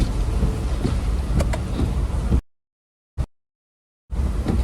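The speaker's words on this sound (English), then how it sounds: "Hear that hail coming down?" Hail pours down during a tornado outbreak storm beneath a highway overpass, a loud dense steady roar that cuts to silence midway, with one brief burst, then resumes.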